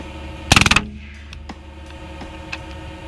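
A Hatsan Blitz airgun fires a fast full-auto burst of about six sharp, loud shots, then falls silent, leaving faint mechanical clicks.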